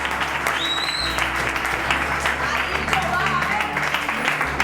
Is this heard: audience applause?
yes